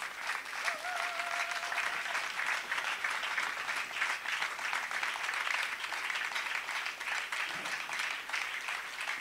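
A church congregation applauds in sustained, dense clapping that fills a large room, steady and moderately loud for the whole stretch.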